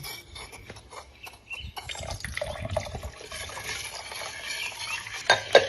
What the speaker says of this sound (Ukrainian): Ми його обов'язково перед вливанням перемішуємо.